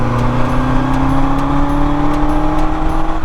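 A 1979 Kawasaki KZ650SR motorcycle being ridden, its engine droning steadily and loud with a slowly rising tone, as if cruising close by. No one talks.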